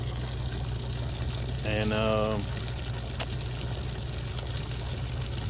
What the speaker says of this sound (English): that's the water to come off of the hardwood floors